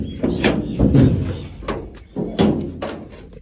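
A house door is opened, with a series of heavy thunks, knocks and rattling bangs in quick irregular succession, close and loud.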